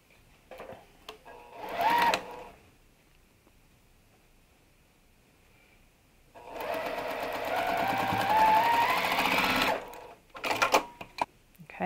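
A sewing machine stitches quilt pieces in two bursts, a short run near the start and a longer steady whirring run in the middle, followed by brief clicks and handling noises, with quiet pauses between.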